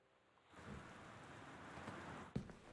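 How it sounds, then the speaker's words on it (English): Steady rain patters throughout a quiet scene in the house exploration game Gone Home, broken near the end by a single sharp thunder crack. "Is that just thunder?"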